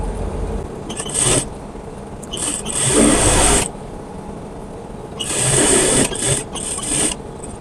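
Sewing machine running in several bursts while stitching the side seam of a kameez along a marked line, loud motor whirring with short pauses between runs, no talking.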